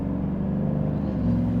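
Chevrolet ZR2 or GMC AT4X pickup truck with an AWE true dual exhaust, a steady low rumbling drone heard from inside the cabin while driving, rising slightly in loudness at the end.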